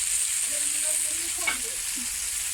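Garlic frying in a pan on an outdoor hearth gives off a steady, bright sizzle throughout, close and even, with faint murmured sounds underneath.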